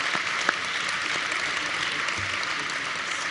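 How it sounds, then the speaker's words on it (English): An audience applauds awardees at an annual convention leadership awards ceremony: a steady, dense wash of clapping from a sizable crowd, even in loudness from start to finish. "So one more round of applause for all of our awardees today."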